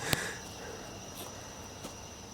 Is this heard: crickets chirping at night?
yes